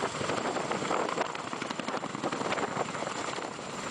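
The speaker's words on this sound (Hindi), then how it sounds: "आर्मी का ये हेलीकॉप्टर लैंड करने की कोशिश कर रहा है" An army helicopter attempts a landing on a mountainside, its rotor thudding steadily and loudly close by, with engine whine and wind noise continuing throughout.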